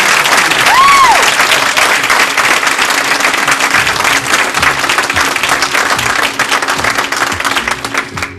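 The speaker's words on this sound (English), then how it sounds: "We have another round of applause for all the people." A gala crowd at the Windsor Shad Derby applauds the pageant participants, sustained, thick clapping filling the room at close range with a faint whistle early on, tapering slightly toward the end.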